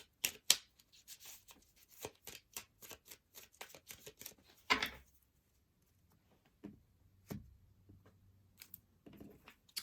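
Tarot cards are shuffled by hand in quick, soft, riffling bursts with pauses between them. The sound is close and faint in an otherwise quiet room.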